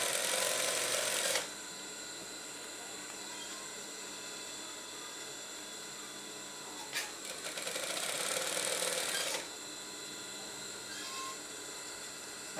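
A sewing machine runs close by while stitching onto stiff interfacing fabric, with two brief, steady whirring bursts over a constant background hum.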